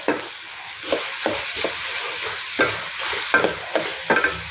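A spoon stirs sambar masala, red chilli masala and hing in a frying pan, making repeated scraping strokes over a low sizzle; moderately quiet, close by, with no one speaking.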